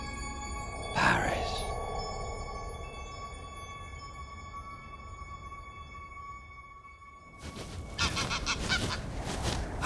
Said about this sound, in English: They appear to be a regular family of grey geese.